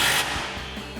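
A 10mm socket on a ratchet tightening bolts on a Ford F-150 exhaust isolator, giving close mechanical ratcheting clicks in a short burst.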